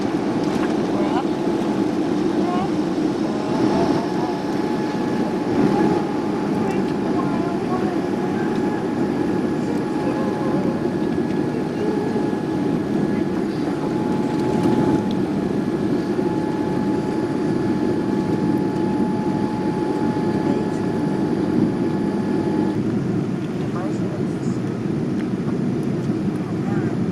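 An airliner takes off from a runway, heard from inside the cabin as a steady, loud engine roar and rumble that continues throughout, with voices present under the noise.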